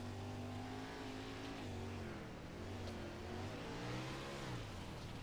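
360 non-wing race cars circle a dirt track at Fairbury, their engines droning and rising and falling steadily at mid distance, with no voices.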